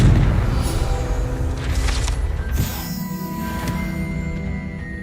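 A Confringo fire spell exploding in Hogwarts Legacy, a heavy booming blast with rumbling low end that swells, then fades into a softer lingering tail with faint tonal ringing.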